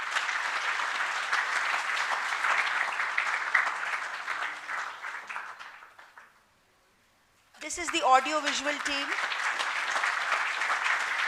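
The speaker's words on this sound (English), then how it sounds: "a big round of applause" An auditorium crowd at a college orientation claps at length, dense applause that fades to near silence, then a speaker talks and the clapping swells again under the voice.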